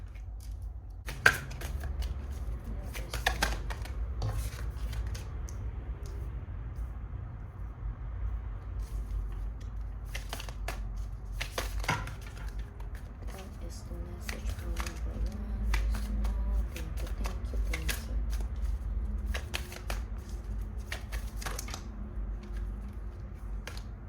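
Repeated crisp riffling bursts of oracle cards being shuffled, close by, in irregular clusters over a low steady background hum.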